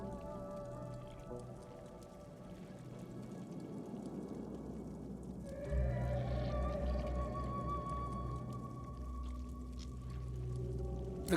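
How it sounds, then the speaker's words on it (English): A monstrous creature in the fantasy role-playing game Divinity: Original Sin 2 lets out a drawn-out, tonal, whale-like whine that swells into a louder, deeper roar partway through, set against a dripping, reverberant room ambience. "The creature's whine turns to a roar."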